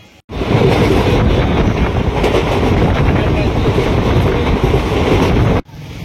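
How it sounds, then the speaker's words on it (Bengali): A train pulls into a station with a loud, continuous rumble and rattling wheels, buffeted by wind on the microphone, then cuts off abruptly near the end. "অ্যানাউন্স করলো ট্রেন ঢুকছে"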